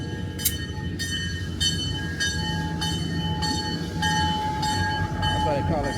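A train rolls along a railway track at a historic 150-year-old winery turnaround, a steady loud rumble with rhythmic clacking pulses and high squealing tones throughout, with a voice talking over it.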